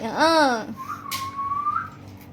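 A man whistles a short tune with his mouth: a wavering, bending note, a pause, then a long steady tone, with some voice-like harmonics at the start.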